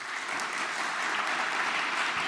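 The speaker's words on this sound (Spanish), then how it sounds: "También un aplauso para él." An audience applauds after a history lecture, a dense, steady wash of many hands clapping from a distance with no pauses.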